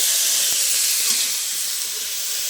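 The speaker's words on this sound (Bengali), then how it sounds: "কপিটা লাল লাল করে ভেজে নিয়েছি" Cabbage fries in hot oil in a pan, giving a loud, close, steady hiss and sizzle that continues evenly throughout with no voices.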